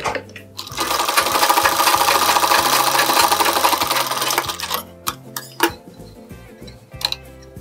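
Sewing machine stitching a lined blouse, running in steady rapid bursts for several seconds, then breaking into short stop-start runs with a few sharp clicks, close and loud with no talk.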